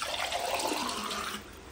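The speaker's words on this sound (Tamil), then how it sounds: "இதெல்லாம் தண்ணி ஆட் பண்ணிடலாம்." Water poured into a cooking pot in a home kitchen, a steady close splashing rush that runs for about a second and a half before trailing off.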